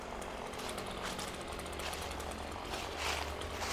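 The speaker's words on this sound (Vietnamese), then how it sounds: "Đây là đang có một anh trai đang cưa cây nè quý vị." Man cutting a tree with a saw in a levelled cemetery, a steady buzzing motor drone heard faintly from a distance over constant outdoor background noise.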